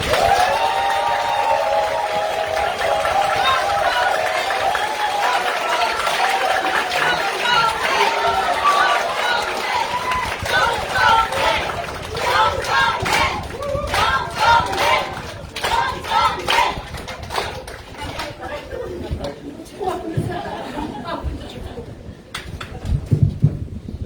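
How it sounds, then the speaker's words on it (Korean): A crowd at an indoor party meeting for members claps and cheers to welcome a speaker, a dense swell of applause and chatter that thins into scattered claps and voices toward the end. "뜨거운 박수로 모시겠습니다"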